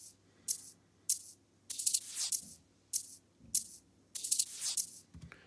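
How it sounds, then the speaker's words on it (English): A rhythmic shaker loop plays alone, with crisp bursts of rattling hiss repeating in a steady groove over a faint low hum. "I then have the first of the hi-hat loops, which is a shaker loop, and that sounds like this."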